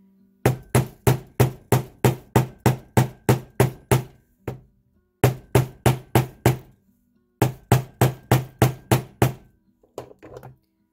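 A heavy 13-ounce hammer strikes wire earrings on a hard surface in rapid, evenly spaced taps, three loud close runs of about a dozen blows each, separated by brief pauses.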